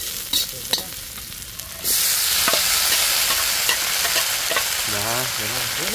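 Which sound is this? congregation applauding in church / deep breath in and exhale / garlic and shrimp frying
garlic and shrimp frying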